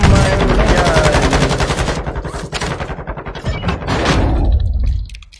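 Rapid automatic gunfire in a shooter video game, loud and continuous bursts of rattling shots that thin out toward the end.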